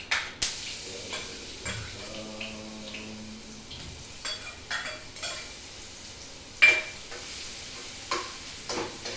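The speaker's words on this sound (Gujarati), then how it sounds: "2 ટેબલસ્પૂન ઓઇલ ગરમ કરવા મૂક્યું છે, એમાં હું લીમડા નાખી દઉં છું અને એમાં આદુ લસણની પેસ્ટ નાખી દઉં છું" Curry leaves and ginger-garlic paste crackle in two tablespoons of hot oil for a bateta vada sandwich filling. A low sizzle runs throughout, broken by repeated sharp spoon-on-pan clinks and scrapes close by.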